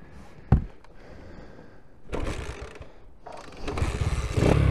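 A Honda C90 motorcycle engine running and being revved to keep it from stalling, giving a rough, close, uneven putter that swells in surges after a single sharp knock near the start.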